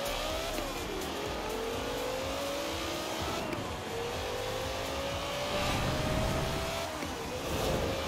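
A car engine in Forza Horizon 4 revs up through repeated gear shifts, the pitch climbing and dropping in a sawtooth pattern under a steady loud roar, with a hint of tire noise and no talking.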